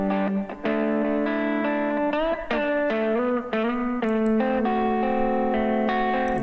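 Sustained, distorted melodic tones with a heavy reverberant wash, notes shifting in steps, loud and continuous with no voices, from a song mixed in FL Studio with EQ, saturation, compression and reverb.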